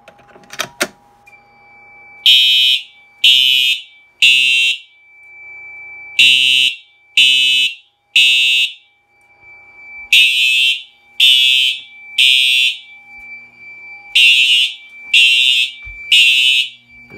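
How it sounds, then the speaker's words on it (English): A ceiling-mounted smoke detector sounds during a fire alarm system test, blaring a very loud, close alarm in repeating groups of three sharp beeps with brief pauses between groups, over a steady high tone, with no talk. "I will activate the smoke detector again. So, and this is really loud too."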